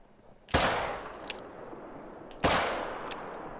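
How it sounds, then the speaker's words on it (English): Two .44 handgun shots fire at caribou in a hunting video game, each a sharp, loud crack followed by a decaying echo, spaced about two seconds apart. "I don't think the second shot connected."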